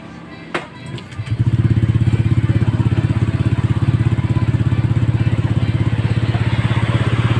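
Honda Click 125 scooter engine test-run after a 1000 rpm clutch spring installation: a few clicks and a brief start-up, then a loud, close, steady chugging idle with a fast even pulse that runs to the end.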